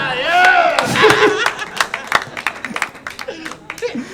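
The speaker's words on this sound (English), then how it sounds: "Thank you for the applause break for drug use" Audience clapping and scattered laughter ripple through a stand-up comedy club, with a voice talking over the start before the applause thins into a few loose claps.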